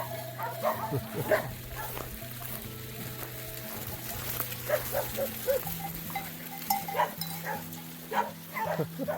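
A flock of sheep bleating nearby with herding dogs barking among them, steady outdoor animal noise throughout on a rural walking route in Spain, with a little talk mixed in.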